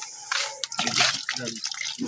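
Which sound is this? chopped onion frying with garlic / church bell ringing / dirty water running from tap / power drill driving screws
dirty water running from tap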